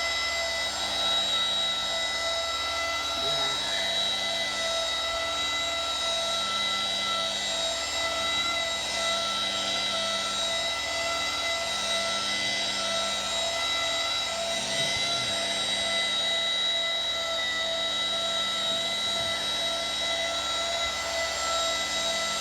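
Rotary polisher working scratches out of car windscreen glass, a constant loud droning whine with a high steady tone and slight wavering as the pad moves across the surface, unbroken throughout.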